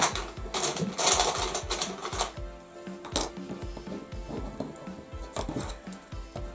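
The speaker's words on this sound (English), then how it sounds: "Just sew along the edge." A sewing machine stitches along a fabric edge while a fabric box is made, a close, steady mechanical whirr with rapid needle ticking and a few brief stops and restarts.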